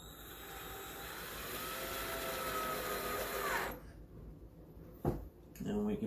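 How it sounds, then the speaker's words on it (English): A power driver runs screws back into a wooden B&B sign: a whining motor hum climbs in pitch for several seconds, stops, then short bursts of handling and another brief whir follow. "put the driver tip on here, and now we can take the screws that I took off of the sign"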